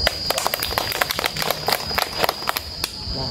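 Audience at a school sports lesson gives a burst of scattered clapping, many hands striking unevenly for a few seconds at close-to-moderate distance before it tapers off.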